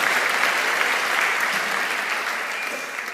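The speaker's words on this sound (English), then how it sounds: "give yourself a round of applause" Steady applause from a lecture audience, dense and even throughout, slowly tapering toward the end.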